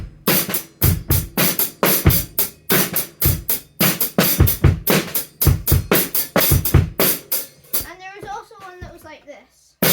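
A drum kit plays a steady beat on bass drum, snare and hi-hat, the sharp hits close and loud in a regular pattern for about eight seconds before a voice briefly speaks at the end.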